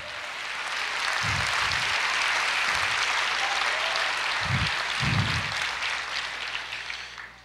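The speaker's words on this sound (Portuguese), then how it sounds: "pode aplaudir, libera essa unção, libera o louvor." A church congregation bursts into sustained applause, a dense wash of clapping that swells and holds for several seconds, with a few low thumps or voices underneath before it fades.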